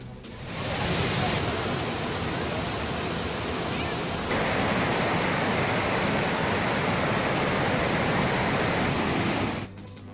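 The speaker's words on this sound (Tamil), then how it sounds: "குமரி மாவட்டம் திருப்பரப்பு அருவியில் ஆர்ப்பரித்து கொட்டும் தண்ணீர்." Thirparappu waterfall in Kumari district thunders with heavy floodwater, a dense continuous roar that holds steady at full loudness for most of the stretch before cutting off near the end.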